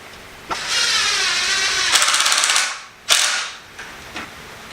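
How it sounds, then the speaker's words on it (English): Wooden boards fitted with spacers are clamped together, giving a close run of creaking, ratcheting clamp cranks and a few sharp knocks and clicks, with no talking. "I'm gonna try to just clamp these up."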